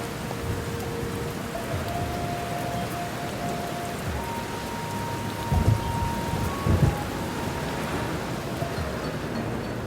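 Steady, heavy rain pours continuously in Istanbul, with low rumbles of thunder rolling through the middle of the downpour.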